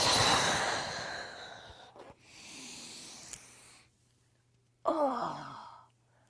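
Slow, audible breaths during a Pilates stretch: a long heavy exhale, a softer drawn-out breath, then a sharp sighing exhale after a brief pause, close and unaccompanied by speech, with a faint low hum underneath.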